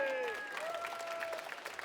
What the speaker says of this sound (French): Tonnerre d'applaudissements pour eux